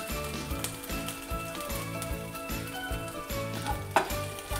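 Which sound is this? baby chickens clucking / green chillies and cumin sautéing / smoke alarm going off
green chillies and cumin sautéing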